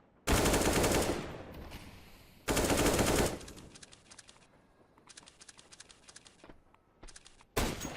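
Bursts of automatic rifle fire from Counter-Strike: Global Offensive on the Train map, two loud sustained volleys followed by scattered quieter shots and a final burst, with no voices.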